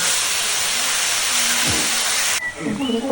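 Spinach is dropped into a hot pan for a Kerala-style spinach curry, giving a loud, steady hiss of steam and sizzling that cuts off abruptly, followed by softer stirring sounds.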